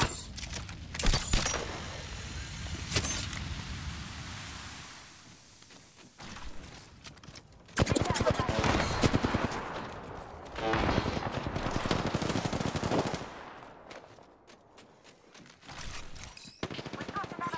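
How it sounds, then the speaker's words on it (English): Apex Legends gunfire: repeated bursts of automatic weapon fire, loud and rapid, in several clusters with pauses, mixed with impacts and game effects and some talk. "Listen up, I'm getting shot at."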